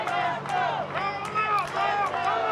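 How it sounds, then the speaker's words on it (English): Wrestling crowd at a Christian wrestling event chanting and cheering in rhythmic swells to rally behind AJ Frost, loud and continuous with voices blending into a rising, pulsing roar. "Crowd trying to get behind AJ Frost here"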